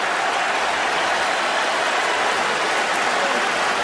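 Dense, steady roar of a stadium crowd at a Michigan at Nebraska college football game, a loud broadband wash of cheering with no distinct individual voices.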